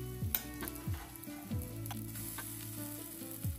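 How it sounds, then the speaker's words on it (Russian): Zucchini fritters sizzle in a pan with a teaspoon of ghee, a close steady crackle broken by a few soft knocks and scrapes as they cook. "добавляю 1 чайную ложку масла кхи и обжариваю кабачковые оладьи"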